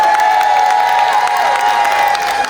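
A festival crowd at Lachute en fête applauds and cheers, a dense wash of clapping and shouts with a sustained tone running through it.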